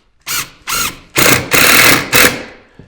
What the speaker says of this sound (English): we're going to put a screw like that in every joint